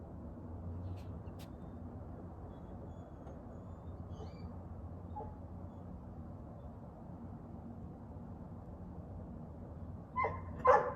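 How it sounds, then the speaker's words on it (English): A neighborhood dog barks somewhere off in a backyard, with a couple of sharp yaps near the end of a long stretch of quiet outdoor ambience. "Neighborhood dog."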